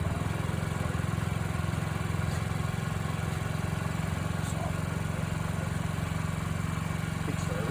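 A Honda Ruckus scooter idles steadily with a low, even putter that holds at a constant level from start to finish; the engine is close and heard alone.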